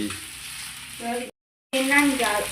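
Fish frying in a pan makes a steady, close sizzle that breaks off for a moment and then comes back louder, with a faint voice in the background.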